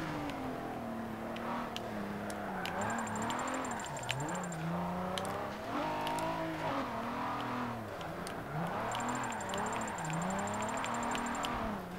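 A race car engine in Forza Motorsport 7 revs and wails while drifting, pitch sweeping up and down steadily through the slides, with faint tire squeal and brief beeping tones layered over the continuous loud drone.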